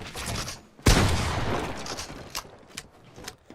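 A single loud shotgun blast in a building shooter game hits sharply near the start, followed by a lingering rumble and a few faint clicks and taps as the scene settles.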